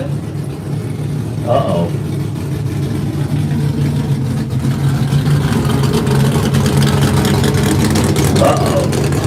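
The engine of a 2004 Chevrolet pulling truck rumbles loud and steady at a truck and tractor pull, a low idling drone that runs throughout, with a voice briefly speaking over it.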